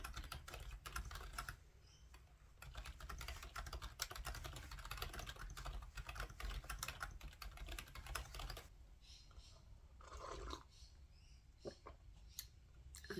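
Rapid keyboard typing while drafting a novel chapter, continuous quiet clatter of keys with short pauses, close and alone.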